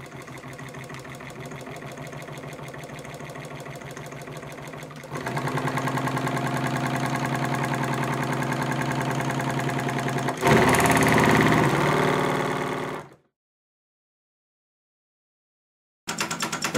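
A radial four-piston magnet engine runs with a fast, even mechanical chatter close by, growing louder midway and harsher near the end before cutting to silence, then starting briefly again, with no talk.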